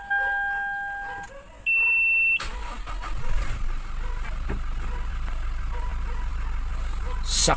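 A 2018 Toyota Fortuner 2.4L 4x2 V, its engine bay freshly washed, push-starts after a couple of beeps and a sustained dashboard chime, then settles into a steady, close idle with a brief sharper clatter midway.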